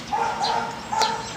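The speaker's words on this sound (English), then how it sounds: "There's a dog barking kind of behind me, but actually behind my neighbor's house there." A pit bull held in a small cage behind a neighbor's house barks and yips in a few short, sharp bursts, heard at some distance outdoors with no one talking.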